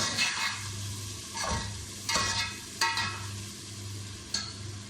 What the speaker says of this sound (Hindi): अब इसको थोड़ी देर भून लेंगे।